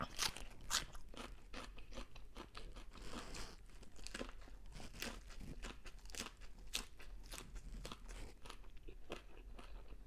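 Chilled Holland papaya is eaten close up, giving a continuous run of crisp crunching bites and chewing, with no talk.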